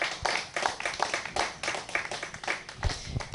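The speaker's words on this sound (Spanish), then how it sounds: "Denle un aplauso al Eterno" A congregation at a religious gathering claps along in a loose, uneven rhythm, with sharp individual hand claps standing out from a fuller crowd patter at close range.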